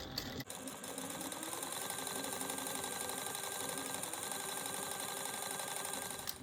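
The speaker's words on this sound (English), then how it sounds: "we're going to top stitch this at 1/8 of an inch" A sewing machine runs continuously, top stitching fabric at 1/8 inch on a box project, a close, steady mechanical whir with fast needle rhythm from start to finish.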